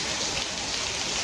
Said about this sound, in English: It rains heavy for like a few minutes and then it stops.